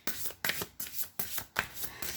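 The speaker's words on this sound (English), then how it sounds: "Let me shuffle these a little bit." A deck of music oracle cards is shuffled by hand in several quick riffling bursts, each a short papery flutter separated by brief pauses, close and fairly quiet.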